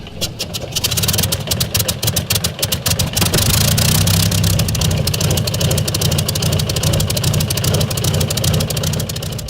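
An aircraft piston engine cranks with rapid rhythmic chugging, catches and settles into a loud, steady rumbling idle close by, with a faint voice briefly heard early on.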